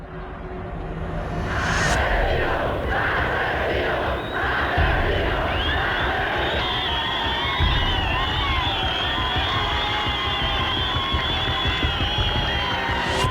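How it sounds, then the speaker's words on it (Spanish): A large crowd of protesters in a plaza near a cathedral shouts slogans in loud, sustained chanting and yelling, with rhythmic bursts and overlapping voices filling the whole stretch. "Le gritan desde la iglesia catedral, le gritan a Pinochet asesino, un grupo de manifestantes en la plaza."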